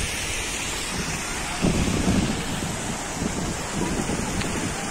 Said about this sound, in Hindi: बहुत ही ठंडी ठंडी हवा चल रही है